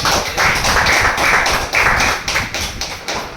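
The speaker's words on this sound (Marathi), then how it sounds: "त्यासाठी जोरदार टाळ्या." An audience at a company product presentation for an ortho supplement applauds loudly, a dense burst of close clapping that swells and pulses for a few seconds before thinning out.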